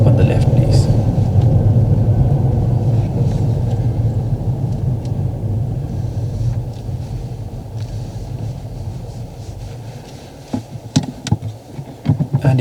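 A car idles and runs in a parked position at the end of a driving test, a steady low rumble that gradually softens, with a few clicks and knocks near the end.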